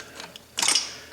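A screwdriver pries a wiring harness away from an alternator screw in the engine bay of a 2005–06 Volvo T6, giving a short close metallic scrape and creak that rises sharply midway after a few faint clicks.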